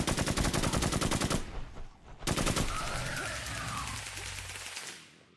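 Rapid automatic gunfire in a video game rattles loud and close in a long burst, breaks off, then fires one more short burst before fading into a lingering echo.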